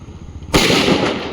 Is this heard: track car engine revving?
no